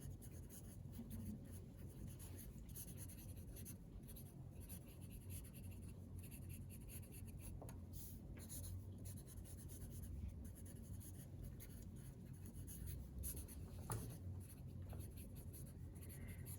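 A pen scratches across paper as the same line is written over and over, a continuous soft scribbling with small rhythmic strokes, close but very quiet, with no talking.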